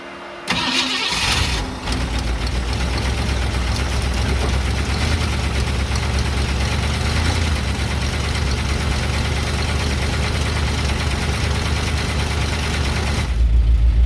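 The engine of a Mustchero car cranks briefly after installation, then catches and settles into a steady, loud, rumbling idle that runs on unchanged, close to the listener.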